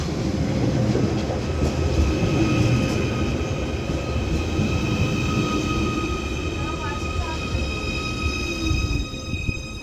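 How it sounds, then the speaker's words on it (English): A Merseyrail class 777 electric train pulls into Bidston station on a curve, a steady loud rumble of wheels and motors with faint clickety-clack and high electric whine, sustained throughout at close range. "this Merseyrail 777 is now arriving in"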